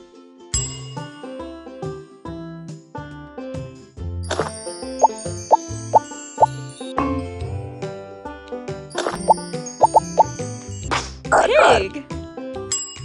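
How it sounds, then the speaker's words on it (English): A cartoon dog barks in a baby farm-animal matching game, heard among plopping taps, bright dings and jingly tones from the game. "Dog."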